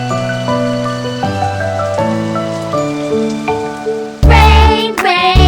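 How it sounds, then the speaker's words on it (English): Cartoon rain falls in a loud, steady hiss that swells sharply near the end, set against bright musical tones from a children's farm rhyme show. "Oh no! It's raining!"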